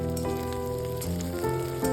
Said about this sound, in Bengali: এইবারে কিছুটা মুগ ডাল তেলের মধ্যে দিয়ে বেশ কিছুক্ষণ ভেজে নেব